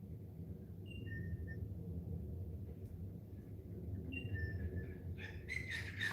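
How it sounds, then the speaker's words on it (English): An airplane rumbles overhead on a muggy evening before storms, a low, steady, distant drone swelling slightly, with faint bird calls and chirps above it. "Yeah, it is a plane."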